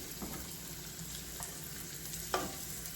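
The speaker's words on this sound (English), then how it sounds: "Get a nice good crust on the outside. And it's sizzling." Steady, close sizzling of chicken frying in a pan, with a few light scrapes and taps, no voices.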